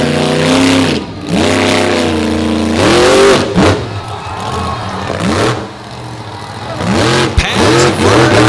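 Stone Crusher, a monster truck, revs hard at a beach monster truck show, its loud engine repeatedly rising and falling in pitch through several throttle bursts, with a brief sharp bang near the end.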